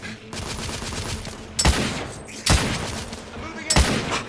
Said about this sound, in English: Snipers are under heavy fire!